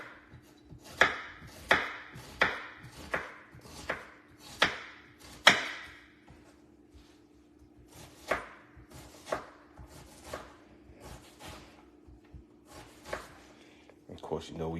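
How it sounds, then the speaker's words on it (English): A knife chops a shallot on a cutting board in a kitchen, about a dozen sharp, close thuds, evenly paced at first, then more scattered and quieter. "if I cut a shallot up"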